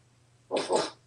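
A person imitates a dog bark with two quick, rough vocal bursts, close and fairly loud, with nothing else around them.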